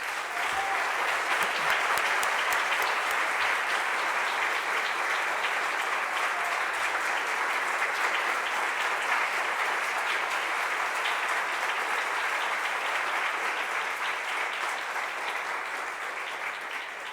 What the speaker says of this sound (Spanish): Con ustedes un enorme aplauso y gratitud a la doctora Jenny Cárdenas Villanueva.